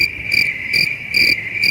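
Crickets chirp in steady, evenly spaced pulses, a bright sustained trill with regular bursts about every 0.4 seconds, fairly loud and alone with no talk.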